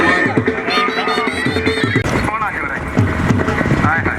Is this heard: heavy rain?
no